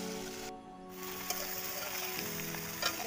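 Potatoes cook in gravy in a pan for alur dom, with a soft, continuous low sizzle and faint bubbling, quiet and steady, with a couple of light clicks from the pan.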